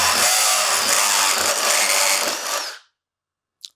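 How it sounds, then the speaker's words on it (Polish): A cordless drill driver with a Milwaukee Shockwave Impact Duty step drill bit bores at high speed. It gives a loud, steady, high-pitched whine for almost three seconds, then cuts off abruptly, leaving a short faint click afterward. "Oczywiście obroty tej wkrętarki są dość spore."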